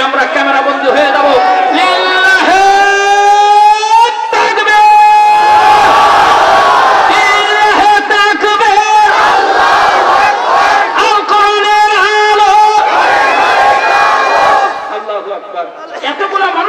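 A large crowd at a Bangla Islamic waz sermon gathering chants takbir together with raised hands: loud, rhythmic, repeated shouts in unison that fill the space, then die away near the end.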